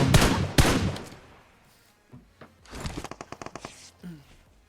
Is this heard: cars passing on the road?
no